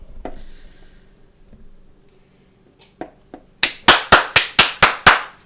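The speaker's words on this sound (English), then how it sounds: "You didn't have to clap for me." A small audience claps a few times, then settles into a loud, steady run of about seven evenly spaced sharp claps with no talking over them, close to the mic, following a quiet stretch of faint sounds.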